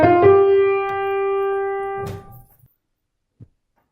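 Second violins and viola sound the motive from the first movement of Beethoven's Symphony No. 5: a short attack into a long held string note for about two seconds, then a clipped cutoff and a faint brief tap after silence.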